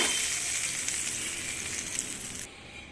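Hot oil sizzling loudly around pickled chillies as a tadka is made for dahi kadhi, a dense, steady frying hiss close to the pan that drops off sharply just before the end.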